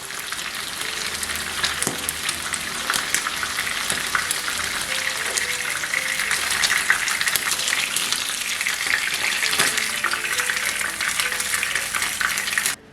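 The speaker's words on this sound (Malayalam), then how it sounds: "ഇപ്പം നമ്മുടെ കൊഞ്ചെല്ലാം നല്ലപോലെ ഫ്രൈ ആയി വന്നിട്ടുണ്ട്." Prawns fry in hot oil with a dense, continuous sizzle and crackle, close and steady for the whole stretch, with occasional stirring clinks.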